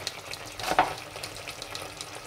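Chicken and onions frying in a pan: a continuous close sizzle with one brief louder stirring scrape near the start, no speech.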